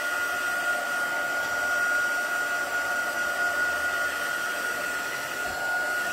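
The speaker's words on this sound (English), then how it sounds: "embossing powder flying when I use my heat gun" Heat gun blowing hot air while melting embossing powder stamped onto aluminum foil, a steady continuous whoosh with a faint whine, close and even throughout, no talking.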